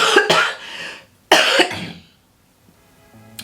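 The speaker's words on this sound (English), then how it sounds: "still coughing a little bit" Two loud, harsh coughs close to the mic, a couple of seconds apart, followed by near silence.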